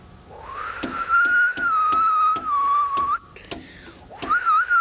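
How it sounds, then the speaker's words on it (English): A person whistles a sustained, wavering tune up close, the clear pure tone gliding slightly in pitch with short breaks, over faint background noise and a few soft clicks. "You go ahead, whistle again."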